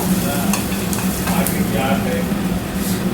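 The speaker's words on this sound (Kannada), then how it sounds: "ನೋಡಿ ಇವಾಗ ಫ್ರೈ ಆಗ್ತಾ ಇದೆ" Steady sizzling of large chilli peppers frying in a pan, with faint stirring scrapes and a low hum underneath, continuous throughout.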